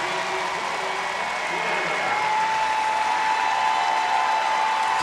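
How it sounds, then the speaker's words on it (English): A large arena crowd at the Xfinity U.S. gymnastics championships cheers and applauds in a steady, loud wash of noise that swells slightly, with a commentator's voice over it. "Listen to this crowd too."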